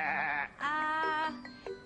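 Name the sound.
person imitating a sheep bleating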